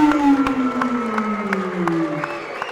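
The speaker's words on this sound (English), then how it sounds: "Can you please continue that applause for a great opponent" At an MMA fight night, the crowd claps and cheers after the result is announced, a moderate, scattered patter of hands beneath a sustained droning tone from the arena sound system.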